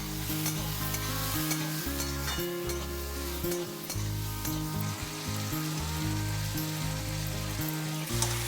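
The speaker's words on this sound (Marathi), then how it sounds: "आणि आता हे सगळं मिक्स करायचं आणि बटाटा शिजेपर्यंत वाट बघायची." Potatoes sizzling steadily in a pan of oil for Maharashtrian kanda batata poha, with close, continuous frying crackle and intermittent scraping strokes as they are stirred, loud and without voices.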